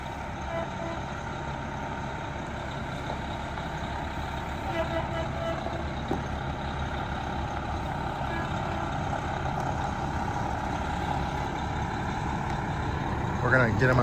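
A 45-foot Prevost coach conversion bus rolls slowly onto weigh scales with a low, steady engine rumble and road noise, faint beeps and a short hiss near the end.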